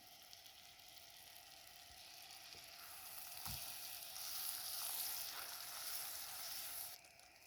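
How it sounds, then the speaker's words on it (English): Butter melting in a pan with flour for a Mahanbhog dessert gives a soft, continuous crackling sizzle, faint and close, swelling slightly midway with a light clink or two. "I'm going to add the butter and let it melt slowly"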